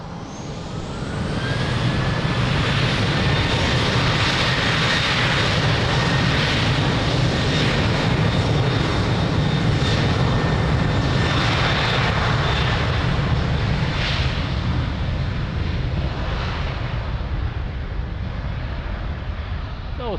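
An airliner takes off from runway 02 at Lisbon Airport, its jet engines roaring loud and steady at full power for about twenty seconds, with a rising whine above the roar.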